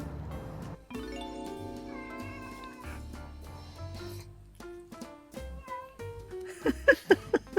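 A pet cat meows several times in a home, with short, fairly loud cries clustered near the end, after a stretch of musical tones and no talking.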